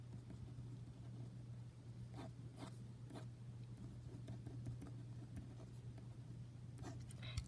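A pen scratches faintly across paper as an algebra problem is written out by hand, with soft irregular strokes over a steady low hum.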